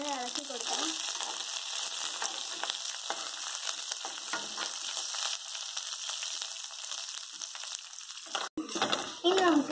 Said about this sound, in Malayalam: നമുക്ക് ഇത് നന്നായി ഇളക്കി കൊടുക്കാം.